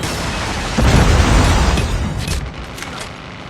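A Predator missile strike in a mobile shooter game: a heavy boom strikes suddenly and rolls into a rumbling tail that fades, followed by a few faint crackles.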